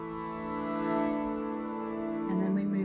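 A harmonium sustains a suspended chord as a steady, reedy drone with rich overtones, close and moderately loud, and a brief shift in the voicing near the end.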